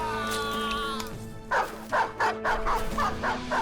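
Dogs in a video game bark in quick yelping bursts, several short loud barks in a ragged series after a tonal in-game sound, with a voice talking over parts of it.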